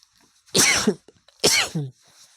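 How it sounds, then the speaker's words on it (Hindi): Two distinct coughs close to the listener, each a harsh burst ending in a short voiced tail, with quiet pauses around them. "खांसी हो गया थोड़ा सा।"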